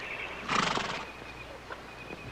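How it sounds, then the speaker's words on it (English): A horse lets out one loud, close whinny lasting about half a second, followed by a few soft knocks and quiet ambience. "Beautiful horse."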